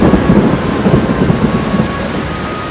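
Steady heavy rain pours down beneath a continuous low rumble of thunder, loud and sustained throughout without any voices.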